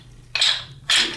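A rattling antlers deer call, used for bow hunting to mimic fighting bucks, gives two short, sharp clattering scrapes close by, separated by a brief pause.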